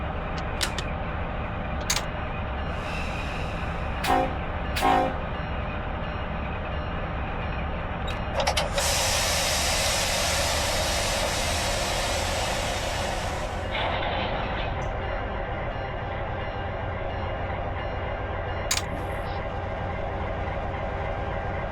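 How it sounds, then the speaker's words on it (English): CSX freight train led by a Dash 9 locomotive starting to move on the A-Line mainline in Run 8 Train Simulator, a steady low rumble with a loud hissing air release in the middle and scattered clanks and squeals. "Let's go ahead and get this train moving"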